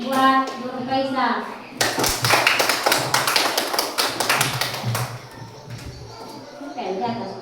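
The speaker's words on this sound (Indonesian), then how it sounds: "Ya, tepuk tangan buat Nur Faisa." A class of schoolchildren claps for a classmate in a room, a dense burst of rapid hand claps lasting a few seconds between a teacher's spoken remarks.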